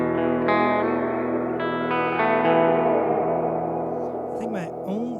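Sustained electric guitar chords through a Walrus Audio Mako R1 pedal on its hall reverb setting, with a wide lingering wash that swells and slowly decays, plus a few faint pitch-bending note slides near the end.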